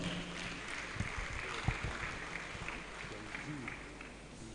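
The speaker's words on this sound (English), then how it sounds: "Let's encourage him with our applause." Faint applause at an awards and investiture ceremony for the chairman, a soft, distant patter of clapping with a few sharper claps, heard at low level with voices in the background.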